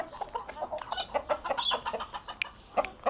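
A pet rooster clucks in quick, uneven bursts close to the microphone, a steady chatter of short calls without a full crow.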